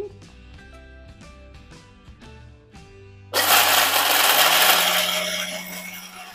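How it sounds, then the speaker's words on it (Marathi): After a few soft clinks and taps, a mixer grinder whirs on loudly and runs steadily with a harsh grinding roar as it grinds peanuts. "आता मी हे शेंगदाणे आहेत, हे थंड आहेत, हे मी मिक्सरला लावते"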